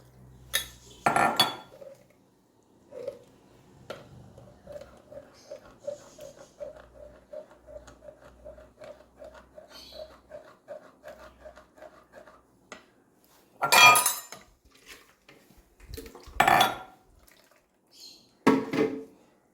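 Boiled mango pulp mixed with a cup of water is pushed through a strainer with a spoon. A run of rhythmic scraping strokes sits between sharp metallic clinks and knocks of utensils against the bowl in a quiet kitchen.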